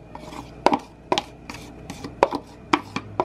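An apple is chopped for cereal and walnut cookies. Crisp knife strikes hit a cutting board up close in an irregular series of about eight chops, with no speech.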